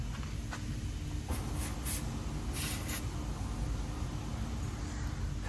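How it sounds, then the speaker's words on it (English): Short hissing bursts of penetrating oil sprayed from an aerosol can onto the threads of a BMW i3 front strut bolt, two or three quick puffs close to the microphone over a quiet workshop background. "I'm just going to give the threads a quick spray"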